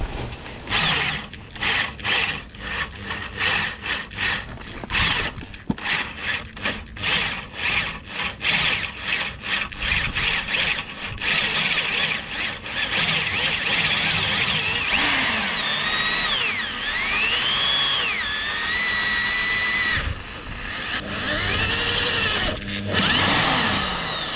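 A drill bit drilling through a broken wheel bolt on a Peugeot 407: rough, rhythmic grinding pulses, then a steadier whining drone with shifting pitch as the bit bites through, loud and close.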